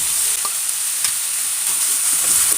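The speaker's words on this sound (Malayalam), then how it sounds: "ഒന്ന് സോഫ്റ്റ് ആവുന്നത് വരെ നമുക്കതൊന്ന് വഴറ്റിയെടുക്കാം." Crushed garlic, ginger and chopped green chillies sizzle steadily while being sautéed in a pan, with a few scraping stirs cutting through the continuous close, bright frying hiss.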